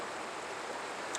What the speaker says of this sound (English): listening to this water is very soothing